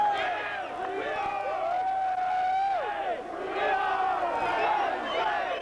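Rioting crowd of about 1,500 on Beaver Avenue in State College at night after a football win, a dense sustained roar of shouting and whooping voices, close and loud throughout.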